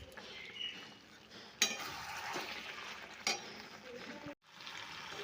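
Masala fries in a pan with a steady soft sizzle while a spoon stirs it, and a few sharp metallic scrapes and clinks break through the sizzle.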